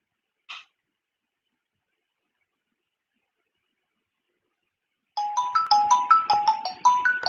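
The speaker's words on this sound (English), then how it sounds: "So as you can see, I got a phone call." Phone ringtone from an incoming call, a bright repeating electronic melody that starts after a long silence and rings steadily and clearly, preceded by one brief faint blip.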